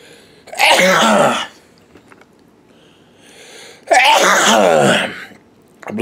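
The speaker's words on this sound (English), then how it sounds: "hold on, I'm gonna sneeze." A person sneezes twice, each a loud close burst lasting under a second with a quiet pause between.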